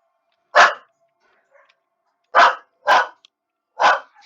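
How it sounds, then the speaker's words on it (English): A dog named Sophie gives four sharp, loud barks close by, a single bark then three more spaced about half a second to a second apart, with quiet gaps between. "I actually let her bark as much and as loud as she wants"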